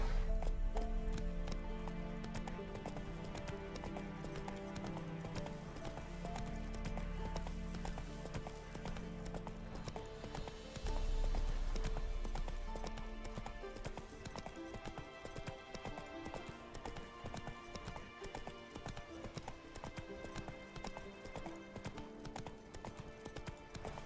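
Hooves of the horse Roach galloping in The Witcher 3, a rapid rhythmic clip-clop running throughout over game music and ambience, steady and close for about twenty seconds.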